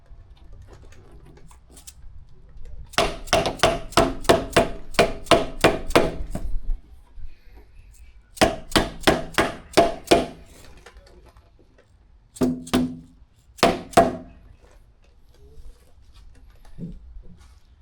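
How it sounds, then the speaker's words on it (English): Rapid rows of sharp taps from a small dead blow hammer tapping tight windshield clamps onto a golf cart, in quick bursts of eight or so blows, then a few scattered single hits, close by. "I used little dead blow hammer to get it to install it"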